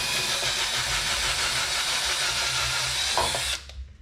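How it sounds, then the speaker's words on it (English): A power drill bores out a hole in the grille of a 2007-2014 Chevy Tahoe while a mesh grille is being fitted. It gives a loud, steady, close whir for about three and a half seconds, then cuts off abruptly. "we're just gonna drill this out some"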